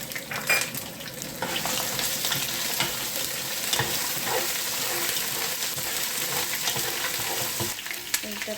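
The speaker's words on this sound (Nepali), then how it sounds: "अदुवा लसुनको पेस्ट हाल्दैछौँ। यसमा फ्राई गर्दैछौँ।" Chicken fries with ginger garlic paste for pulao, a continuous dense sizzle near at hand, layered with irregular clatter and scraping from stirring.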